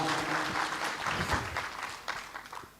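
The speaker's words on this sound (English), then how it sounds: "Let's give a round of applause for my CEO," A conference audience at a Sacco Indaba in a lodge hall claps for the CEO, a dense burst of applause that swells early and gradually thins toward the end, with no speech over it.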